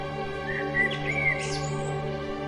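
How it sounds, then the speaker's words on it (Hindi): Birds chirp in a forest setting, a few short tweeting calls rising over a steady background hum, moderately near and not loud, with no voices. "और पक्षी चहचहा रहे थे।"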